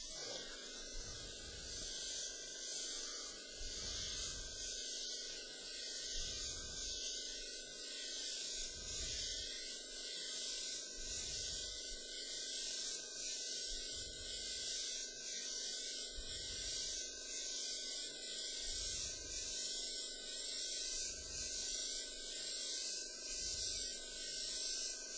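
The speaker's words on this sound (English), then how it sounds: "you heard the airbrush blasting away there" An airbrush sprays paint in a steady, close hiss that keeps going for a long stretch, pulsing slightly in level, with no talk over it.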